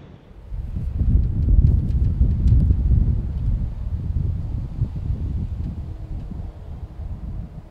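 Wind blowing across an outdoor allotment plot, a low steady rumbling wind noise buffeting the microphone throughout, with faint rustling on top.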